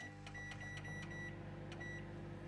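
A microwave oven running at maximum power while steaming mochi rice dough, a quiet, steady electrical hum with faint periodic clicks and whine, heard alone.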